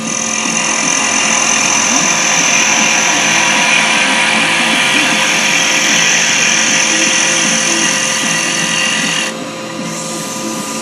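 A wood lathe spins at a steady high-pitched whine as a carbide chisel cuts the turning wood, loud and continuous, with the pitch dropping slightly near the end. There is no talking.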